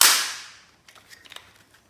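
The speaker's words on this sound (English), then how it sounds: "Dry firing it sounds like this." A mini AK47 toy gun that fires 6mm rubber bullets is dry fired, giving one sharp loud snap that decays over about half a second, then a few faint clicks and rattles as the mechanism settles.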